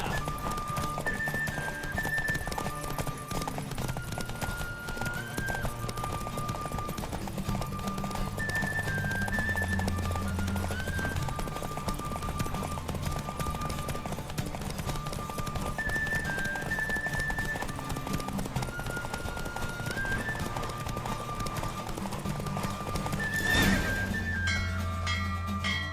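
Horse hooves clip-clop steadily through a video game horse race in The Witcher 3, with occasional neighs over a constant game soundscape and a brief louder burst near the end.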